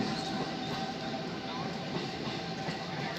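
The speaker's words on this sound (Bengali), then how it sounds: "ট্রেন লেট ছিল বলে এখন আরেকটা ট্রেন যাচ্ছে" A train passes along a railway track, a continuous, broad rumbling roar with a faint steady hum, holding at the same level throughout.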